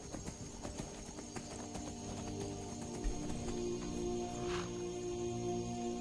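Hooves of a unicorn steed clip-clopping in the video game Skyrim, a run of quick hoofbeats at the start fading under sustained ambient game music and tones, moderately loud and alone.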